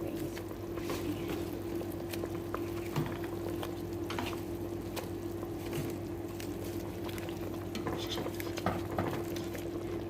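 Rice with pan-fried tilapia simmering in a pot, giving a steady bubbling, sizzling boil close by, with faint clinks of a utensil against the pot and no talking.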